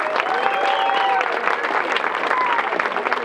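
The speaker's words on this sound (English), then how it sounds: "Let's give them a big round of applause." A crowd at a musicians' museum induction ceremony gives a big, sustained round of applause for honored drummers, dense clapping with whoops and cheers mixed in.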